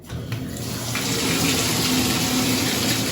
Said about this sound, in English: Now, the shower, turn the water on.